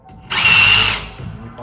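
A DeWalt DCF850 impact driver drives a screw into drywall in one loud, close burst of about seven tenths of a second, then stops, with no voices during the burst.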